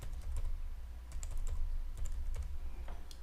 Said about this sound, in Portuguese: Ao digitar a palavra matérias, nós vamos pressionar a seta para o lado direito